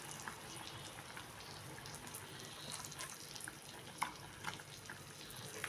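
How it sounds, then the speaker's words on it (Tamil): Jilebi fish going into a simmering kulambu curry: a steady, soft bubbling hiss with a few light clinks and splashes, close and without any voices. "நம்ம மீனை சேர்த்துக்கலாம். மீனை வச்சு சேர்த்துக்கிறேன்."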